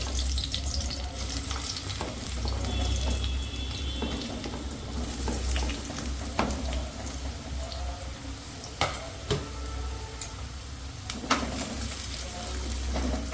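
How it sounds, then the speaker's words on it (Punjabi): Potatoes fry in hot oil heated in a home kitchen, a steady close sizzle with stirring scrapes and intermittent clatters and running-water sounds, moderately loud throughout with no talking. "ਹੁਣ ਇਹਦੇ ਵਿੱਚ ਅਸੀਂ ਆਲੂਆਂ ਨੂੰ ਫਰਾਈ ਕਰ ਲਵਾਂਗੇ"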